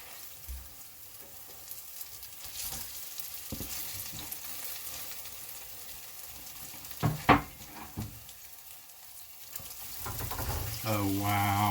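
German potato pancakes (Quarkkeulchen) sizzle steadily in a pan just after being flipped, a continuous frying hiss with a few louder spatters and a brief clatter, no speech over it.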